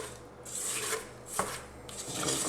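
Banana bread batter is scraped across the bottom of a mixing bowl, giving a few close, rasping scrapes separated by brief pauses and ending in a knock.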